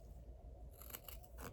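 Scissors snip through string used for a beaded garland tassel, a few quick faint crisp cuts close by in a quiet room.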